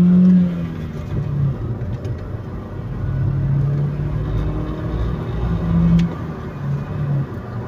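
Opel Vectra C car engine revving under full throttle as it accelerates, a steady mid-pitched engine drone with rumble that rises and eases in waves, recorded close by, with no talk.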